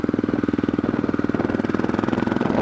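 An Aprilia Pegaso motorcycle engine labouring in third gear, a rapid even chugging pulse of firing strokes grinding along steadily at close range with no talk.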